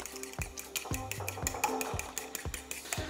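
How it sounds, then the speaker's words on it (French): A whisk beats oil and egg together in a bowl like an omelette, giving quick rhythmic taps and clinks against the side with a wet swishing between strokes. The sound is close and steady, with no voices. "j'ai de l'huile, de l'œuf et je vais simplement les mélanger un peu comme une omelette"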